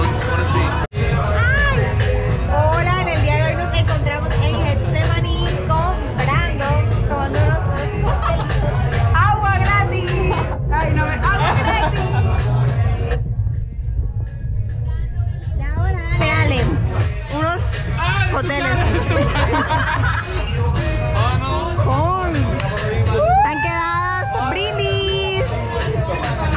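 Dense crowd hubbub on a night out in Colombia, with many voices chattering and calling over one another at close range.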